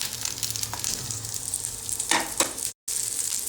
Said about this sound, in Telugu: ముందు ఉల్లిపాయలు 2 నిమిషాలు వేయించుకుందాము